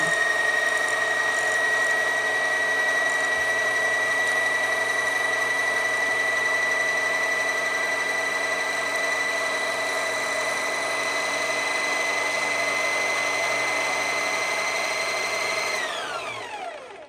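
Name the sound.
sewing machine winding a bobbin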